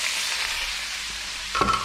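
Garlic hitting a hot pan for Filipino chicken adobo, a loud steady hiss of frying that flares briefly near the end as something is stirred or added, with no voices.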